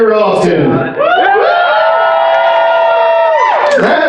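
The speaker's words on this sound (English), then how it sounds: "So rule number 1 is cheer loudly and cheer often." A burlesque show audience cheers and whoops loudly and continuously, a dense crowd of overlapping yells and shouts swelling close by.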